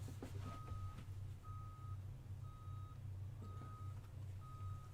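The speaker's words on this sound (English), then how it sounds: "It's a garbage truck." A garbage truck reversing outdoors, its backup alarm beeping in an even, repeating rhythm about once a second, faint and distant over a low engine rumble.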